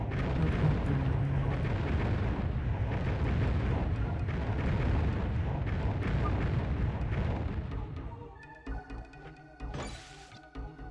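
A bomb explodes in the video game Alundra with a loud, rumbling, sustained blast lasting several seconds. It then cuts off into quieter scattered game sounds.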